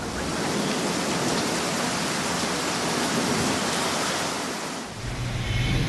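Heavy unseasonal rain pours on streets in Pune, a dense steady roar of rainfall lasting throughout, loud and close, with a lower rumble of runoff or passing traffic near the end and no voices.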